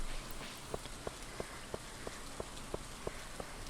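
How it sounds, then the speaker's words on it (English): Steady rain hisses in the video game Stardew Valley, a soft, constant wash of falling drops with a faint, regular ticking pulse beneath it and no voices. "it's raining"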